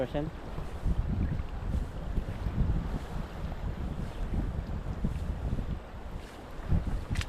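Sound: roaring river current

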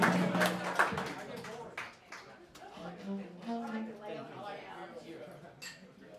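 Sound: audience applause at a jazz speakeasy

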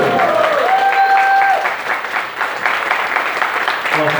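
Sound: audience applause at an auction

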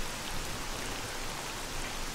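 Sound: rain in the video game S.T.A.L.K.E.R. Call of Pripyat

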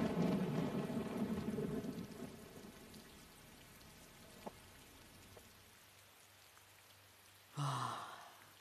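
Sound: heavy rain falling

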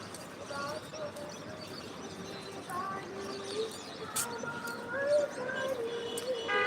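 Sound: chorus of migratory birds at the Narasunda river

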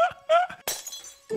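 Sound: glass panel breaking in Minecraft video game

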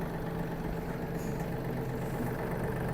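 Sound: Yanmar AF-324 mini tractor engine idling while warming up

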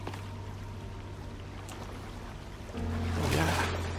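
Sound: character jumping into pond water splash in video game

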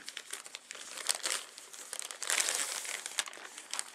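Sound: unpacking a Chrome OS CR-48 laptop from its packaging

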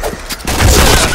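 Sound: grenade explosion in the video game Point Blank

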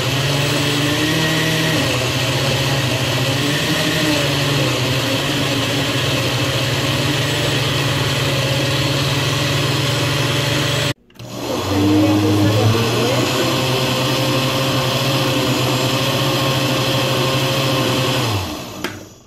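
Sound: blender blending mango for mango lassi

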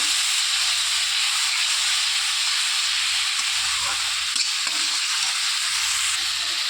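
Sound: spice paste with salt and turmeric frying in hot oil

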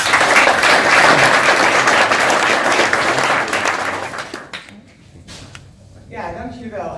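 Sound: audience applause

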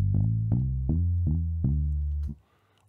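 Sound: bass line pattern made in FL Studio

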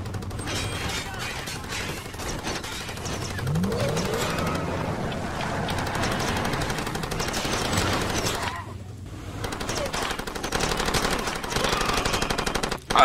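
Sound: gunfire from a weapon in the video game Far Cry 2

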